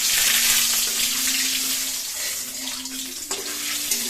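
Panch phoron spices sizzling in hot oil while cooking, a steady loud hiss and crackle throughout with a few small pops, no talking.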